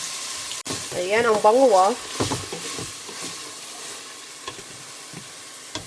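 Chopped onion dropped into hot ghee in a pan for chicken soup, sizzling and being stirred at close range, with someone speaking briefly over the steady frying hiss.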